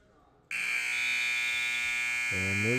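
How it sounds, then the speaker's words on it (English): Loud electronic buzzer at a varsity high school wrestling match in a 190-pound bout, sounding abruptly and holding steady for over two seconds, with a voice starting over it near the end. "And there's the buzzer."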